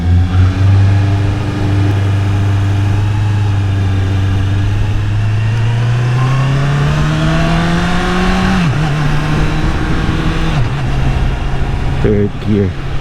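Honda CBR650R motorcycle with a quickshifter, accelerating on the road. The engine note climbs loud and steady, then drops sharply with each quick gear change before rising again, over constant wind rush.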